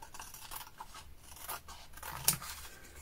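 Scissors cut into a paper greeting card for Saint Patrick's Day with quiet close snips and rustling, ending in one sharper, louder cut near the end.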